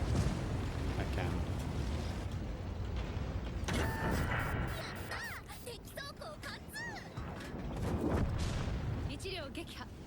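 A tank rumbling through a World of Tanks battle, low continuous engine and track rumble with heavy blasts and mechanical clanks, someone talking over it in places.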